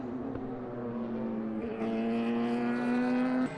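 A race car at the 2013 Asian Le Mans Series round at Inje runs smoothly through a pair of turns, its engine a steady, tonal drone that swells louder partway through.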